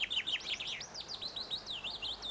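A male chaffinch sings from the top of a tall tree by a hedgerow, a clear, rapid run of bright, descending chirping notes, near and loud with no other sound.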